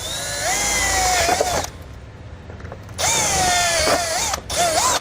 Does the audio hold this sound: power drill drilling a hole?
yes